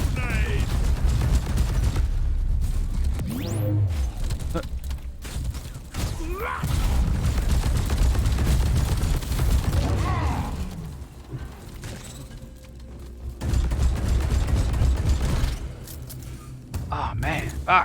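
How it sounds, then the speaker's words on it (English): A grenade explosion and gunfire in a shooter video game, deep booms and bursts of shots with mechanical clanks, loud and near, heard under ongoing talk. "That's grenade."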